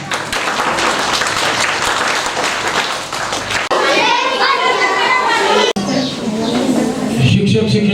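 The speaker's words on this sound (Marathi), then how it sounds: "तीन टाळ्या।" Children and adults at a school Independence Day celebration giving rhythmic rounds of clapping, loud and close, in separated bursts amid chatter and voices.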